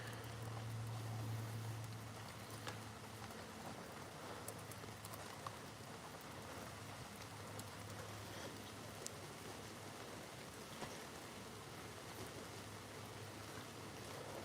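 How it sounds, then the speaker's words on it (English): Steady rain falls outdoors at night, a soft continuous patter on the ground with scattered drop ticks and a low hum underneath, fairly faint and unchanging throughout. "we've had steady rain all day like this"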